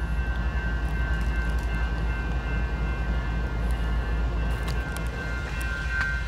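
A stopped freight train gives off a steady, low rumbling hum, with faint higher tones above it and no voices.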